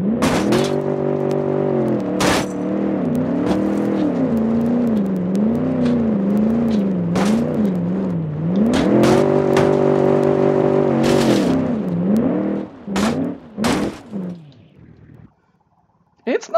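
An off-road truck engine in the Automation driving game drones and revs with rising and falling pitch, loud and continuous, then cuts out near the end, with a few sharp clicks over it.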